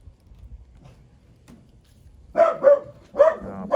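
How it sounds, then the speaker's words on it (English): A few distinct dog barks in quick succession after a quiet stretch of faint background noise. "Oh, of course, my dog is barking."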